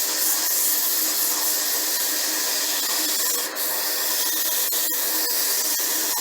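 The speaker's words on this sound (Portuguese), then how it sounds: "trabalha toda a superfície, sempre com a lixa em movimento" Sandpaper rubs across a wooden piece turning on a lathe, a steady close hissing scrape lasting throughout, with a few brief clicks and no speech.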